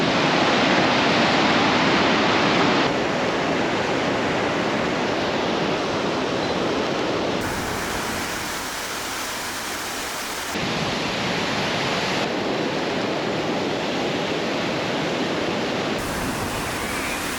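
Gullfoss, a glacial waterfall in Iceland, roars as a loud, continuous wash of rushing water that shifts in intensity across the stretch, with no talking.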